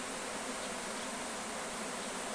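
A dense, steady buzzing drone of many swarming honeybees, continuous and unbroken, with no voices.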